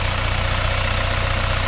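A tractor engine, a 2030 fresh from an engine replacement, runs steadily while round baling, a loud, even, close drone with no talk.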